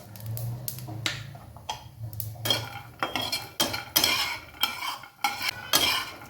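Grated dry coconut and cumin stirred in a pan for stuffed bitter gourd curry, a spoon scraping and clinking against the metal pan in quick irregular strokes, close and fairly loud, with a faint sizzle and no talking.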